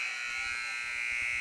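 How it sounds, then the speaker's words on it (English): A gym buzzer sounds at a high school girls' basketball game between Grayson County and McLean County, giving a steady, loud, unbroken electronic drone that lasts the whole moment. "there was the buzzer"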